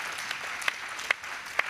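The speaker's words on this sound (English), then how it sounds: "So give yourself an applause." Light, scattered clapping from a forum audience marking the close of a session, with a few distinct sharp claps standing out over a soft continuous patter.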